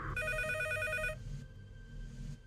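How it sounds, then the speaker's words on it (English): A phone ringing in the middle of the night, a bright repeating electronic trill for about a second, then a fainter sustained tone lingering before cutting off. "I realize my phone is ringing"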